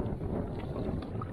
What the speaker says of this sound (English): Wind's picked up a bit today.